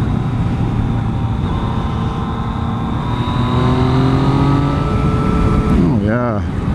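A 2014 Yamaha FZ-09 / MT-09 motorcycle accelerates on the road, its engine note climbing steadily through the gears with rising whine and wind noise, close and loud, ending with a quick rev swoop.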